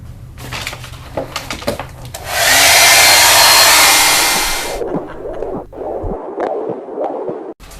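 A hair dryer blows on a not-quite-dry painting, a loud steady whoosh of about two seconds between quieter handling knocks and shuffles.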